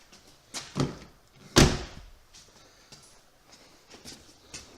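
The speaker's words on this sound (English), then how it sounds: "If we open the door, automatic trunk unlatching." A car door is opened and handled on a car whose trunk does not latch properly, with a soft click and a sharper metallic clunk, then faint rustling, close by with no talk.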